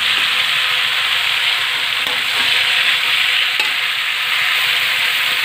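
Potatoes are added to a hot pan of mixed vegetables and stirred, with a loud, steady sizzle and frying under faint scraping stir strokes. No voices.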